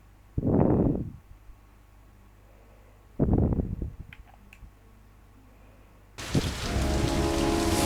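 Heavy rain in the video game Heavy Rain, with two short bursts of rain noise separated by quiet, then a dense, steady downpour that rises and holds to the end.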